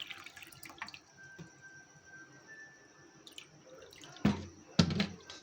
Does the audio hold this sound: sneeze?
no